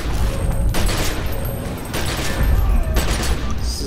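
Explosions and blasts in the video game The Secret World: a loud, continuous barrage of booms and crackling rattle with no pause, with some speech mixed in.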